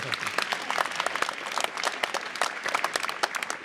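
Room audience clapping for the mayor of North Bay at a public program, a lively patter of individual claps close by, fairly dense and even throughout.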